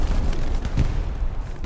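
Artillery fire in Hell Let Loose, a WWII shooter, as continuous rumbling booms and blasts that come close together for under two seconds and keep the loud low end busy throughout.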